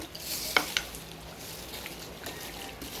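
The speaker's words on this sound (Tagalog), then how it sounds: "Tapos, ikos na natin ng konti." Afritada stirred in a pan, with two sharp utensil clicks against the metal early on over a steady, soft sizzle of frying, close and fairly quiet, with no talking.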